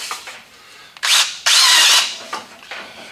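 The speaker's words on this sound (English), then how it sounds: "We'll go ahead and screw that down right here." A power drill drives screws into a steel stud, heard as two loud whirring bursts of motor whine with brief quieter gaps and softer trailing spins, close and alone.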